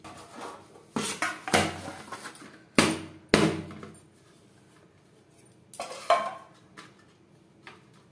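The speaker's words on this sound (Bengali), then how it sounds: "এভাবে একটা ছুরির সাহায্যে 4 সাইডটা ছাড়িয়ে নেব।" Knife run around the sides of a cooled homemade cake in its pan: scattered metallic scrapes and clinks against the tin, several sharp bursts separated by quiet gaps.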